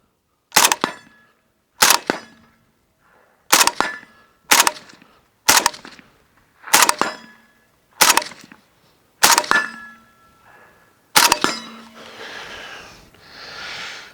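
A suppressed Zastava pistol fires nine evenly spaced shots at close range, each a sharp muffled crack with a short decay, followed by a few seconds of hissy rustling noise.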